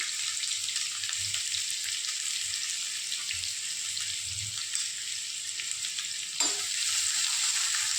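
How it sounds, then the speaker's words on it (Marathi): Sliced onions sizzling steadily in a hot pan with bay leaves and curry leaves for a crab masala, a constant close hiss with occasional soft stirring scrapes and a brief bump near the end. "कांदा आपण व्यवस्थित फ्राय करून घेऊ."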